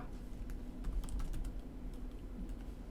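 Steady typing on a computer keyboard while entering a Kubernetes deployment command, a quiet run of light rapid key clicks over a low hum, with no talk.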